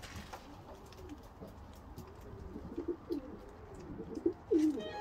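Soft, throaty racing pigeon coos, a few low rolling calls growing louder toward the end, with faint background noise and no talking.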